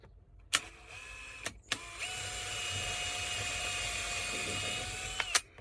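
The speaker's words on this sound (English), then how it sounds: "Pre-drill a hole through there, and then run my trim head screws in." Drill driving trim head screws into pre-drilled fake cedar tongue-and-groove ceiling boards inside a camper van: a steady, faint motor whine holds for several seconds, framed by sharp knocks and clicks at the start and end.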